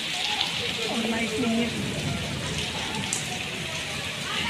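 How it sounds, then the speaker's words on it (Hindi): Heavy rain pours steadily in Delhi during a power cut, a dense continuous hiss with someone talking over it throughout. "बहुत ज़्यादा बारिश हो रही है"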